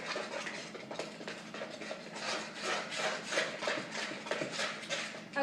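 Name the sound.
stirring chocolate chip pancake batter in a bowl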